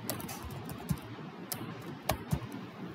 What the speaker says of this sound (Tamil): அப்படின்னு டைப் பண்ணுறேன்.